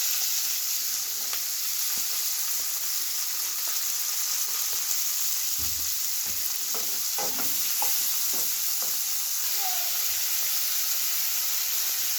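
Onion frying in a pan with ginger-garlic paste, a continuous crackling sizzle while a utensil scrapes and knocks against the pan in irregular bursts midway, no voices.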